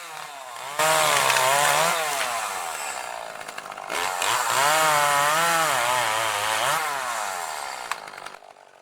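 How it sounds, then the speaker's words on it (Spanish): A chainsaw roars continuously nearby in the Sierra de Cazorla, Spain, its pitch rising and dipping as it bites into wood, with a brief lull midway before cutting resumes. "seguir practicando con la motosierra"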